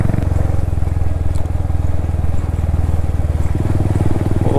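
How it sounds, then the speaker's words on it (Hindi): A single-cylinder Royal Enfield Hunter 350 or Interceptor 650 motorcycle thumps loud and close in a steady rapid pulse on a rough rural road, with rattling clatter over the bumps. "मेरी बाइक ख़राब ना हो जाए यार, मैं ये सोच रहा हूँ जो ये आवाज़ आ रही बाइक से"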